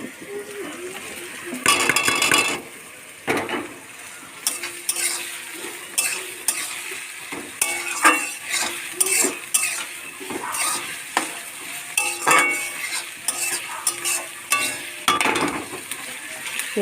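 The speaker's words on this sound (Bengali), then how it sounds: "তেল গরম হয়ে গেছে, পেঁয়াজটা দিয়ে দিলাম" Onions sizzle in hot oil in a pan while being fried for biryani, with a steady crackling fry under repeated clinking and scraping as a metal spoon stirs them.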